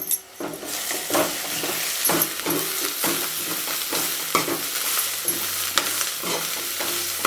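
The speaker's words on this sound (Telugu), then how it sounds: "బాగా ఇది ఫ్రై అవుతుంది" Onions frying in a pan for chicken biryani with a steady sizzle, stirred by repeated scraping strokes of a spoon against the metal, close and continuous.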